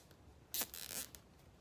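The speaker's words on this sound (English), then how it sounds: "Now I'm going to tighten up the zip ties." A plastic zip tie being pulled tight on a no-sew fabric face mask gives a short, quiet ratcheting zip of about a second, heard alone.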